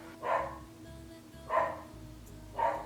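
Dogs barking at home: three single barks spaced about a second apart, moderately close, over a low steady background hum.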